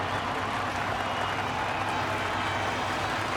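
A sellout crowd applauds at the Japanese Grand Prix in an F1 racing video game, a dense, steady wash of clapping and cheering that holds at an even level throughout with no voices on top.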